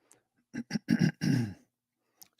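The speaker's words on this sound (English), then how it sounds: "I keep clearing my throat in your ear." A man clears his throat at close range into a microphone, several short rasping bursts in quick succession followed by a quiet pause.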